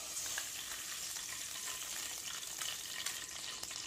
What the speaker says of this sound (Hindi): प्रेशर कुकर में सबसे पहले 3 टेबलस्पून घी डाल दें।